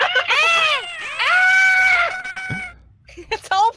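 A player triggers scream sounds in the video game Garry's Mod, producing several loud, shrill, wavering screams close up, with a short lull before a final burst. Voices are heard nearby.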